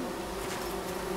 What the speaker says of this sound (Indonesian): Ada sarang lebah tapi.